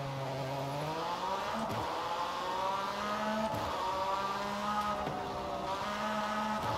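Porsche 911 RSR race car engine in Forza Horizon 5, climbing through the gears in long steady pulls, each upshift dropping the pitch with a brief crack before the next rise, loud and up close.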